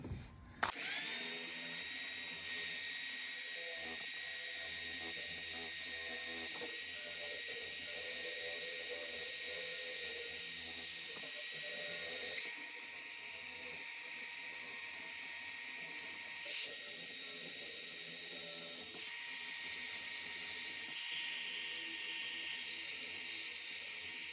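A handheld power tool grinds rust off a metal chair in a steady, continuous whine that holds for the whole stretch, with slight shifts in pitch and load as it moves across the surface and no talking.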